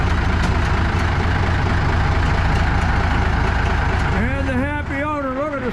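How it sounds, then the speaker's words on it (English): A 1965 Kenworth truck's Cummins 855 inline six runs with a deep, steady, rumbling idle close by, and a voice speaks over it near the end. "You hear that beautiful 855-inch Cummins inline 6."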